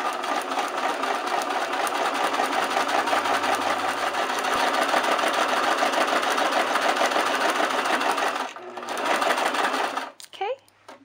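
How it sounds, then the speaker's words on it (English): A sewing machine stitches crepe paper, running forward and then backstitching: a close, continuous mechanical whirring buzz that cuts out near the end into a few clicks. "Then we're going to go a few stitches forward. And then we're going to backstitch to lock it in place."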